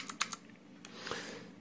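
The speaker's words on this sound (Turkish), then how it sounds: "duyduğunuz gibi bayağı bir bariz bir ses farkı var. Yani gürültülü klavye seven arkadaşlar, şahsen ben bu şekilde bir klavye düşünebilirim." Cherry MX mechanical keyboard keys pressed in a quick cluster of three sharp clicks, then a couple of softer taps and a lone click, close and fairly quiet with no talk.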